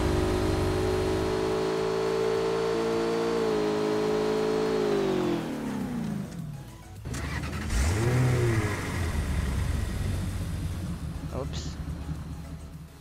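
A motorcycle engine in the Rules of Survival mobile battle royale game drones steadily, its pitch sliding down before it revs back up and roars nearby, while players talk over it.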